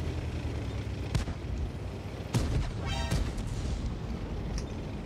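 Tank cannon fire in the World of Tanks video game, a few sharp booming shots against a constant rumbling battle backdrop, with distant blasts spaced through a few seconds.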